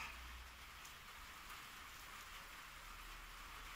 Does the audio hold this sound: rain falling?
yes